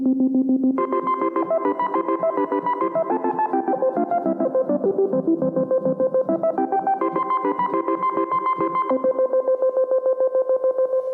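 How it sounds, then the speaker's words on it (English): A Realistic Concertmate MG-1 synthesizer repeats short gated tones in a steady, rapid chopped pulse, layered over shifting chords, loud and continuous throughout. "We hear the synth repeating."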